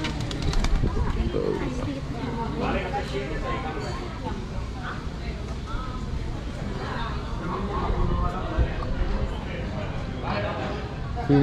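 Pigeons coo repeatedly in the old public square of San Juan, Puerto Rico. Their soft, throaty calls rise and fall amid outdoor bustle while people talk nearby throughout.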